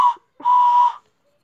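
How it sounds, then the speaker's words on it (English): Two short tonal whistle blasts from a video game train whistle, a brief one followed by a longer steady one, clear and close with silence after. "I have a train whistle"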